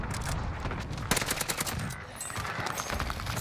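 Rapid gunfire from an MP40 in Call of Duty Vanguard Warzone, with dense bursts of close, loud automatic shots that run on for several seconds.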